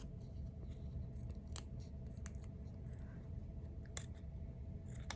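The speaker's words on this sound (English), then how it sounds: "So you want some really sharp scissors." Scissors snipping through zipper tape in a few sharp, irregular cuts over a steady background hiss.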